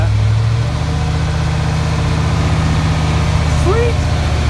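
A dump truck on a dairy farm idles a little high while rolling slowly downhill, giving a loud, steady low engine rumble that fills the whole stretch without a break.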